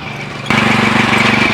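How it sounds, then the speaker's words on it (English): Horse-drawn mowing machine at work, a steady loud mechanical clatter that starts abruptly after a brief quieter moment and runs on continuously close by. "do a few more things with the mow machine"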